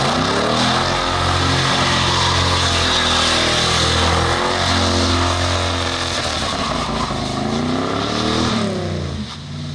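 The big motor of a Knight Rider KITT replica car rumbles loud and close, a deep engine note that swells with revving and settles back down, with no voices.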